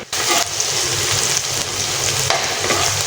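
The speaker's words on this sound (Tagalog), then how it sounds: "isunod na natin yung pagisa yung ating bawang at saka sibuyas" Garlic and onion sautéing in oil in a pan for adobo, a loud steady sizzle with stirring scrapes breaking in now and then.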